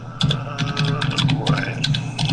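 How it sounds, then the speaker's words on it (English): Computer keyboard typing with irregular, fairly close key clicks and taps in uneven bursts, alone without talking. "Listen to him type. He's probably typing with 2 fingers."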